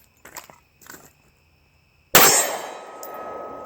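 A gunshot strikes a steel target with a sharp loud metallic clang that rings out and decays slowly, preceded by a few faint handling clicks in quiet.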